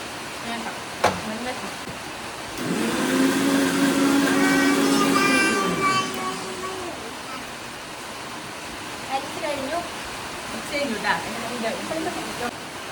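A mixer grinder whirs for several seconds as it grinds mango pieces into a smooth pulp, rising to a steady loud drone before spinning down, with quiet room sounds around it.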